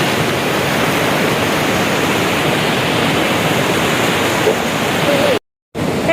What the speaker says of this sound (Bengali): প্রচন্ড স্রোত, জলটা প্রচন্ড স্রোত, কিন্তু খুব সুন্দর।